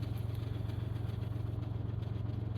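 A motorcycle idles nearby with a steady, pulsing engine note and a light metallic chatter from its drive chain riding over it.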